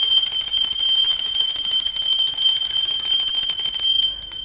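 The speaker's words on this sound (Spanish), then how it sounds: "Ahora sí, va campana." A bell rings continuously in a loud, bright, sustained metallic trill, close and alone, stopping abruptly just before the end.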